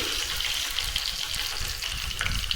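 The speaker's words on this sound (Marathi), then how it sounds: "तेल गरम झालं आहे तर आपण अर्धा चमचा मोहरी घालू अर्धा चमचा जिरे घालू पाच सहा कडीपत्त्याची पानं घालू" Mustard seeds, cumin and curry leaves sizzle steadily in hot oil for a sambar tempering, a close, even hiss with faint crackles and no talk.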